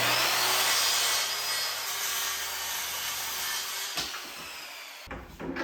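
A hand saw cuts through a kitchen cabinet panel to trim it to height, with steady rasping strokes up close that stop near the end, followed by a few brief knocks and handling sounds.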